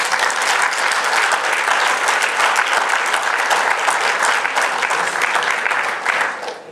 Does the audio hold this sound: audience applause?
yes